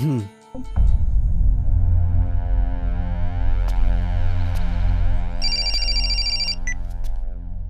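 A telephone rings loudly with a steady electronic ringtone melody that carries on for several seconds after a brief pause at the start.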